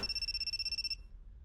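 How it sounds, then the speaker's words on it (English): A phone rings in the video game You And Me And Her with a rapid, pulsing electronic trill that repeats steadily, then cuts off abruptly and leaves only faint room noise. "There's an incoming call from God."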